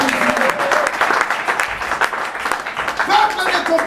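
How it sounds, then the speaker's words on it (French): A church congregation applauds loudly and steadily throughout, dense clapping with voices and cheers mixed in. "Est-ce qu'on peut acclamer très fort?"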